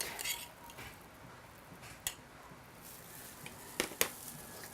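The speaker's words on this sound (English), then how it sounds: "Give it a generous stir." Potato salad with salt, onions and garlic stirred in a bowl, giving soft wet squishing with a few sharp clinks of utensil against the bowl, close and moderately quiet with no talking.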